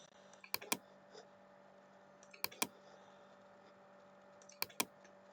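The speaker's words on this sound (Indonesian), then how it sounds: "Saya ketik ya" Keystrokes on a computer keyboard come in three short clicky pairs spread across the span, faint and close over a steady low hum, with no talk.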